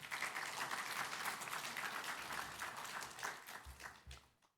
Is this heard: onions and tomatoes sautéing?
no